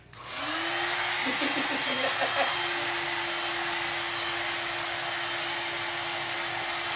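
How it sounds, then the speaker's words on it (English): A blow dryer switches on and runs with a loud, steady whooshing roar and a constant motor whine, while a voice speaks briefly underneath. "My blow dryer."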